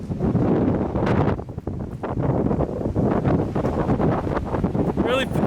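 Strong gusting wind outdoors, buffeting loudly and unevenly with a few short dips, with a voice speaking in places.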